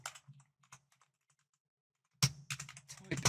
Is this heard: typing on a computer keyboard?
yes